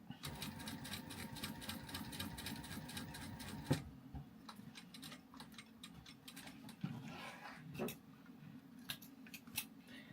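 A home sewing machine top stitching a card slot on a handmade wallet, running in a quick rapid ticking rhythm for a few seconds, then pausing with soft handling clicks and short bursts of stitching, fairly quiet.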